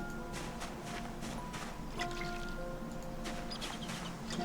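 Water poured over crops in Project Zomboid, a steady soft patter of drops and splashes with gentle rustling, heard against a faint musical backdrop.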